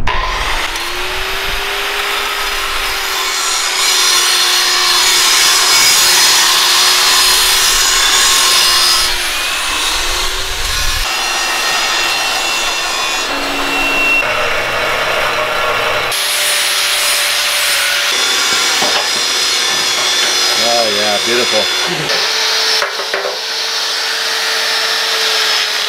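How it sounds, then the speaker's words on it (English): A handheld power grinder works metal during a deck crane teardown, a loud steady whine and rasp that shifts in pitch as pressure changes, running almost continuously with short dips. "Am I going to interrupt you, Bart, if I keep on grinding?"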